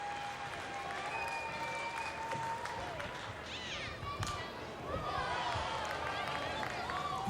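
Crowd at a minor-league baseball game between Spokane and Hillsboro applauding and cheering during a tense pitch count, a sustained wash of clapping and voices with occasional whistles, steady throughout and swelling slightly near the end.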